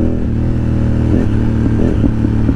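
A carbureted motorcycle revs its engine in a few quick throttle blips over a steady loud idle, with a clattering mechanical edge, heard close by on a street during a ride.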